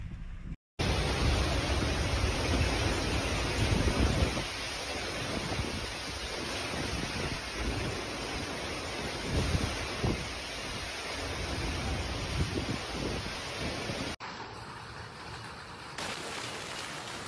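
A severe overnight storm over Sicily, with torrential rain and strong wind roaring as a dense, continuous wash of noise that stays loud throughout, then drops a little near the end.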